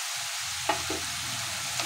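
Split green chillies are dropped into hot oil, a short close sizzle under steady frying hiss with a soft knock of contact.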